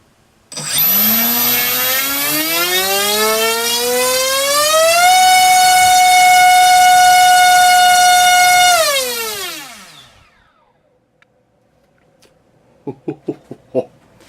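Warhead 3545 1850KV brushless motor on a 4-cell pack with a 100 amp ESC, spinning up in a rising whine, holding a loud steady high-pitched tone for several seconds, then winding down; a few soft knocks follow.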